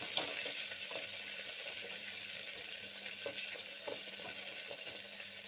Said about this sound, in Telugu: పచ్చిమిర్చి, కరివేపాకు ఈ 3 వేసేసుకొని చక్కగా దీన్ని రోస్ట్ చేసుకుంటాం.